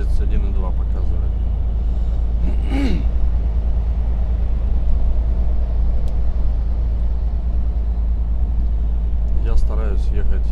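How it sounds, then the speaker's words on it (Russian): A car climbing a hill at speed on a highway between Samara and Penza, heard from inside as a steady, loud engine and road rumble throughout, with a brief vehicle sound passing near the middle and faint talk. "Я стараюсь ехать в гору побыстрее."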